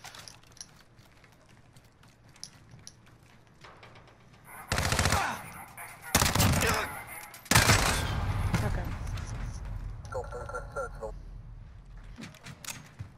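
Loud bursts of automatic gunfire in a Warzone-style shooter, several separate volleys over a quieter stretch of game sound, with people talking under and between the shots.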